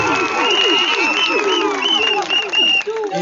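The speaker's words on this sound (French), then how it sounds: "que je vous demande d'applaudir très fort" Guests at a wedding where one man marries four women applaud loudly, with clapping mixed with excited shouting voices and high cheering calls.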